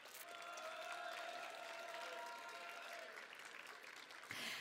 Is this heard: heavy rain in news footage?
no